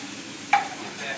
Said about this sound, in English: That nice hard sear.